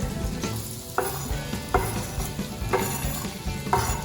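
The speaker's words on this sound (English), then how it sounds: "Mix that around just a little bit." Bacon and onions sizzle in a pan under a constant frying hiss, with regular spatula strokes about once a second scraping through, heard up close and free of speech.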